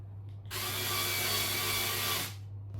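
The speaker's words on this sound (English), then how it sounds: "See how the light comes on when you turn on the drill?" A power drill whirs steadily for about two seconds, starting and stopping abruptly, loud and close against a faint background hum.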